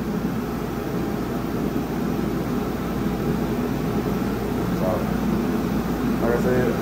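A heater blows steadily in a paint booth to bake fresh paint on a car, giving a constant, loud broadband roar of rushing air that does not vary from start to finish.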